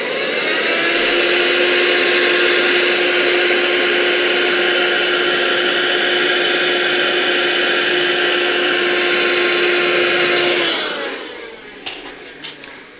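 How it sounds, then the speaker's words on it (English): A vacuum cleaner runs steadily and loudly with a sustained whine, in a home art studio during a pastel painting session, then switches off and winds down near the end, leaving brief faint knocks. "Hang on, I need to vacuum first."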